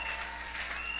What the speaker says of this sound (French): Est-ce que quelqu'un peut applaudir très fort